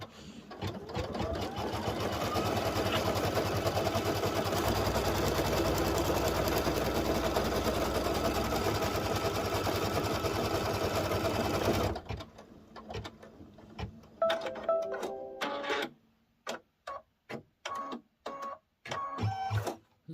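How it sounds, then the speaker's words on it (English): An embroidery sewing machine stitches a zipper purse held in the hoop with silver thread, running in a loud steady whir for about twelve seconds, then stopping and starting in short separate bursts. "it's just going to stitch down and round like it did before when it was stitching the front"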